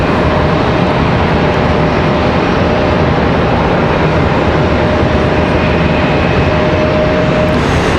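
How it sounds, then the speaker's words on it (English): A Lufthansa airliner going around at Charlotte Douglas airport gives off a loud, continuous jet roar. A thin steady whine sits over the rumble for most of the time, and no voices are heard. "Lufthansa on the way. Sadly gonna go around, unfortunately, it looks like."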